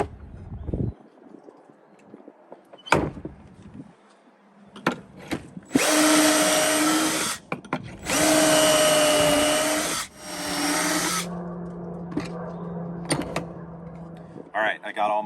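A power drill bores holes through a lightweight RV cabinet face frame, with several loud sustained whirring runs separated by pauses and clicks, while someone talks in the gaps.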